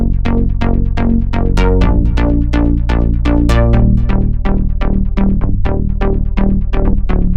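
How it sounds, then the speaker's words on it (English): Deep house bass synth playing a repeated run of punchy plucked notes, heavy in the low end with bright, sharp harmonic attacks, loud and steady in a rhythmic pattern, heard alone without voices. "So our bass sounds like this."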